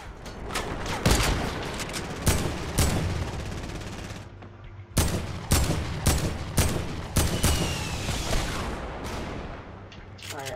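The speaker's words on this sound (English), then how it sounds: "Bro, where's the shooting at my teammate?" Rapid gunfire in the video game Fortnite, a loud, irregular string of sharp shots and bursts, close and crackling, with a short quiet gap before the shooting picks up again; faint speech sits beneath.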